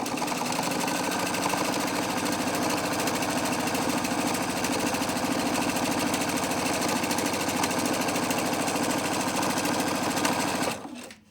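Sewing machine running a long continuous seam on a fabric shopping bag, a close, steady rapid stitching hum that holds for about ten seconds before cutting off.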